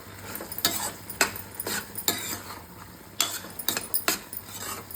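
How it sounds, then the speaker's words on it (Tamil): Tomatoes sautéing in a pan as a spoon stirs them in quick, repeated scraping strokes over a light sizzle, close and fairly clear. "இப்போ இதை ஒரு ஃபைவ் மினிட்ஸ் கழிச்சு ஓப்பன் பண்ணி நல்லா வதக்கி விட்டுக்கோங்க"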